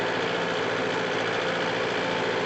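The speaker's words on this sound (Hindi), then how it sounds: "देख लो क्या ही चल रहा है यार ये ट्रैक्टर का" A Yanmar YM 348 A tractor engine runs with a steady, dense mechanical drone, close and constant, with no speech.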